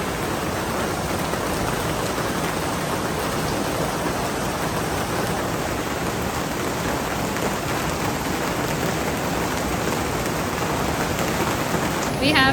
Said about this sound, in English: I don't know if you can tell, but there is rain.